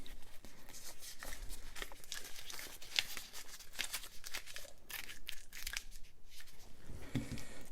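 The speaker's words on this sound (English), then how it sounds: "Velcro." Velcro on a homemade handle pulled apart, a long dense ripping crackle that runs on and off, fairly close.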